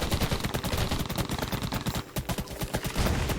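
Rapid automatic gunfire and blasts in the survival shooter game Undawn, a dense, relentless stream of loud shots with only a brief break midway before the barrage resumes.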